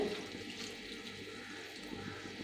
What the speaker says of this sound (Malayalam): എന്നിട്ട് 1/2 കപ്പ് വെള്ളം ഒഴിച്ച്